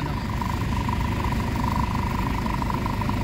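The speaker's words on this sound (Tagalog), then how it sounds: "Ang gagawin natin, i-idle muna natin yung makina para maka-recover siya" A Mitsubishi Adventure engine idles steadily after an XADO engine treatment, a close, even, continuous hum with a faint tonal whine and no revving, without any talk over it.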